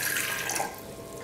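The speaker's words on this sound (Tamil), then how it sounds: "தண்ணி வந்து அளந்து சேர்த்துக்கலாம்" Water splashes and gurgles as it is poured into a cooking pot for sweet pongal, loud at first then settling to a softer trickle.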